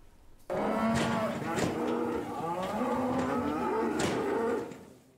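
Simmental cattle brought in from Austria moo in a long, loud, drawn-out low that rises and falls over several seconds, close by with a brief sharp knock or two.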